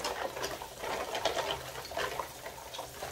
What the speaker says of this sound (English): So I'm filling this up with water.